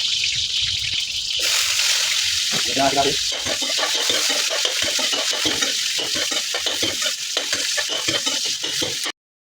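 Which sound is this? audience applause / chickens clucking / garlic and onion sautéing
garlic and onion sautéing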